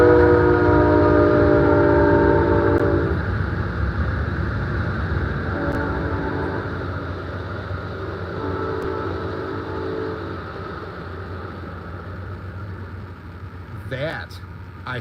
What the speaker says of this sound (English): here comes a train. We got another one coming this way. It's gonna get loud for a minute